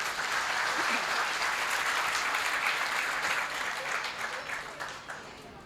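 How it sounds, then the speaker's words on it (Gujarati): A large audience at a Gujarati comedy stage show in Mumbai claps continuously, a dense, loud wash of applause that keeps going for several seconds before tapering slightly toward the end. "એમને પણ તાળીઓથી વધાવશું."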